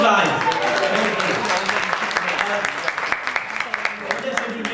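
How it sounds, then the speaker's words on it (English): Scattered audience applause at a Bangladeshi independence day celebration held by a cultural group in Ipswich, uneven clapping of a modest crowd mixed with voices and chatter, sharper individual claps near the end. "Give me a round of applause, guys."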